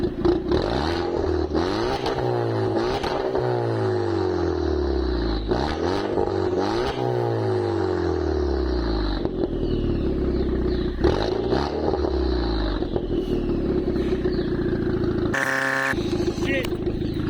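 Volkswagen Polo GTI turbo with an Akrapovic exhaust revs repeatedly, loud and close, with deep sweeping rises and falls in pitch and crackles between blips.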